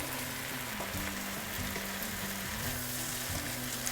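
Spinach sautéing in a pan, a dense, even sizzle with soft clinks of a utensil tossing the leaves, close and continuous.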